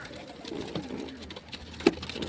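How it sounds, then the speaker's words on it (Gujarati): A pigeon coos softly inside its nest box, low burbling calls close by but faint, with a brief louder note near the end. "આ કબૂતર જોઈ શકો છો આ કેવું અંદર આવું કરે છે"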